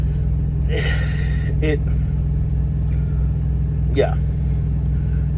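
Truck engine droning steadily while driving, a constant low rumble from inside the cab, with someone talking over it throughout.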